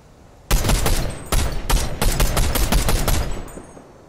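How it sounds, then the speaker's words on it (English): Fortnite battle royale gunfire, loud close bursts of rapid shots starting abruptly after a quiet moment, repeating in clustered volleys with brief gaps and no talk. "Someone else shooting."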